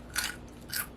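Two crisp bites into a crunchy snack, the first near the start and the second toward the end, close and fairly quiet with no talking.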